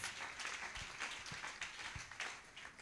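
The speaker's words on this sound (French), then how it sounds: "we clap the Lord for their life." Church congregation applauding in praise during a testimony service, a steady wash of many hands clapping in a loose rhythm, moderately distant.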